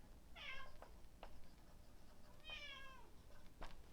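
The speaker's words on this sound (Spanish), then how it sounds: "Permiso, cojan al gato que se salió." A cat meows twice indoors, each call drawn out and fairly close, with a few soft clicks and knocks between them in an otherwise quiet room.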